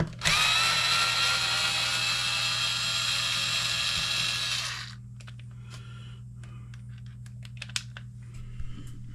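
A power driver unscrews screws from a Traxxas Raptor R RC truck during a repair. It gives a loud, steady whine for about five seconds, then stops, leaving small clicks and handling noises close by.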